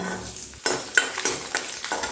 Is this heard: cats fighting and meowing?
no